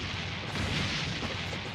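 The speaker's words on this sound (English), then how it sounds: "Explosions and fire, everybody." Last-minute explosion sound effects closing out a sports talk show, heard as a dense, continuous roaring rumble with a slight swell midway, loud and sustained without any talk.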